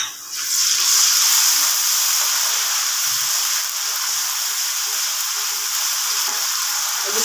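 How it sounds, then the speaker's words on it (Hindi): Garlic ginger paste hits hot oil with browned onions in a pot, giving a loud, steady sizzle and hiss that runs unbroken throughout, close to the listener. "अल्हम्दुलिल्लाह प्याज हमारे ब्राउन हो गए हैं, अब हम लहसुन अदरक का पेस्ट डालेंगे"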